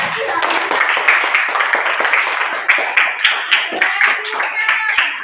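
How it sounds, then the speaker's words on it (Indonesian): A group claps in loud, busy applause, with voices chattering and calling out over it, then settles into slower, more rhythmic claps. "tepuk tangan dulu ya"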